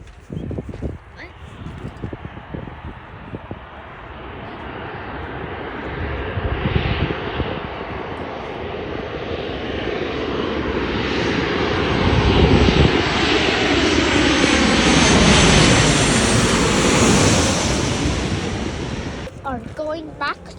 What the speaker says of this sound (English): What plane is this?